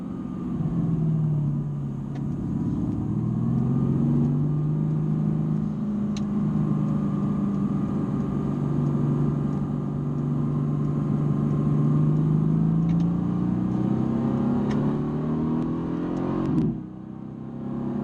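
A 2017 Mercedes-AMG GT S on a track, its engine pulling hard under sustained acceleration, a loud, steady rising drone with a sharp drop near the end.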